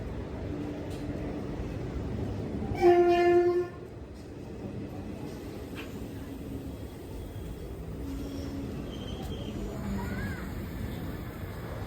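The Madurai Express pulls into a station platform, sounding one loud horn blast early on, with a steady rumble of rail and station noise before and after.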